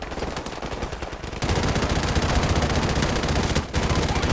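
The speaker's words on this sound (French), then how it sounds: "Tirez! Tirez à travers le mur!" Automatic gunfire in the Call of Duty Modern Warfare campaign, dense and loud rapid shots that continue almost without a break and pause briefly near the end.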